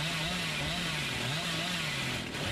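A continuous chainsaw revving loudly and steadily from the Dead by Daylight video game, a buzzing motor drone held for a couple of seconds.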